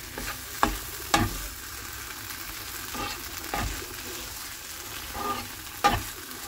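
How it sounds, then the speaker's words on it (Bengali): Taro leaves and shrimp are stirred in a pan with a gentle, continuous sizzle, broken by a handful of spaced, distinct scraping knocks from the stirring utensil. "দিয়ে একটু নাড়াচাড়া করে নামিয়ে নিলে হয়ে গেল কচুর শাকটা"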